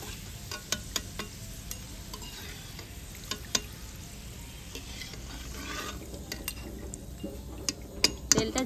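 Palm fruit pitha frying in oil, a soft continuous sizzle under repeated sharp clinks and scrapes of a utensil stirring the pan, busiest toward the end.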